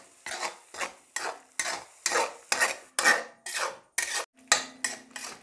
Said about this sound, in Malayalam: ഇനി ഇളക്കി കൊടുക്കുക.